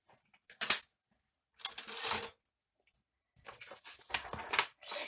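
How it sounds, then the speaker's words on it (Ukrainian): Several crisp snips of scissors cutting out a fabric pouch piece, close up, in short uneven bursts separated by quiet gaps. "Беремо ножиці і вирізаємо."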